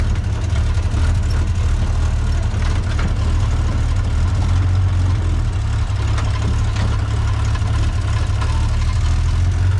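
A 1969 International pickup with a Hemi engine runs and drives, giving off a steady, loud low rumble that stays close and continuous throughout with no one talking.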